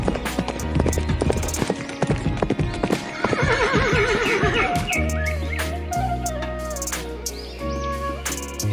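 A cartoon horse in an animated Malayalam story clip-clops with rapid hoofbeats, then neighs and whinnies over bright musical tones, sounding close and lively.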